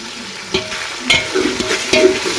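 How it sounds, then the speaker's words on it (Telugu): Ginger paste, onions and coriander fry in hot oil, a close steady sizzle punctuated by several quick stirring scrapes of a spoon against the pan. "అల్లం పేస్టు, అవి ఆనియన్స్, కొత్తిమీర అవన్నీ ఇట్లా ఫ్రై కావాలి."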